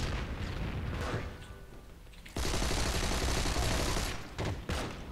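Johnson rifle firing in the video game Heroes and Generals, a dense wash of loud gunfire and battlefield booms that cuts out briefly and then resumes.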